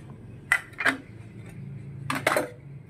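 Tomato and onion salad is stirred in a bowl: a few sharp clinks and scrapes of a utensil against the dish come in two short clusters over faint background hum.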